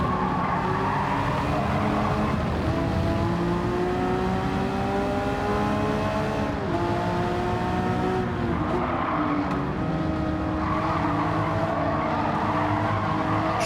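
A Porsche 911 GT3 races at Circuit de Spa in Gran Turismo 7 on PS5. The engine roars loudly and continuously, rising and falling through gear changes, with tire squeal in the corners.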